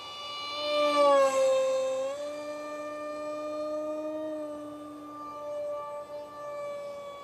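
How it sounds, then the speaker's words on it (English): An F-16XL Garuda model jet flies with a steady, tonal turbine-like whine that swells loudly early on, then holds at a fairly constant pitch and level. "Pay attention to flying the airplane here, Scott."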